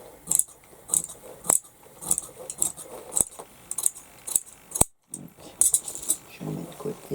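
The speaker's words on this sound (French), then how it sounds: "Donc je vais couper une bande de 84 sur 6 cm" Scissors cutting a straight strip of fabric, 84 by 6 cm, for a men's satchel: a steady run of sharp, close snips roughly every half second, each blade closure crisp and distinct, with faint room sound between cuts.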